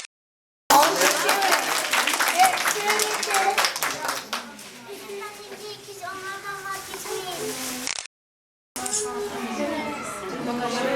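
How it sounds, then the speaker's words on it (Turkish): Children and adults clapping together in a classroom-style gathering during a Turkish domestic goods week event, steady mid-loud applause mixed with kids' voices, then a brief pause and renewed clapping with chatter. "Alkışlıyoruz."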